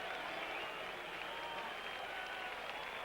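A large ballpark crowd at Yankee Stadium applauds and cheers for pinch hitter Pete Rose during the 1977 All-Star Game, a sustained distant wash of clapping heard at broadcast level.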